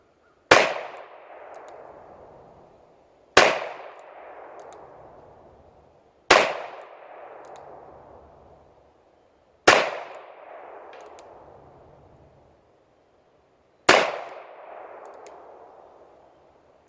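Five single shots from an Armscor M200 revolver, each a sharp crack followed by a ringing metallic clang from a steel target that decays over a couple of seconds, spaced a few seconds apart outdoors.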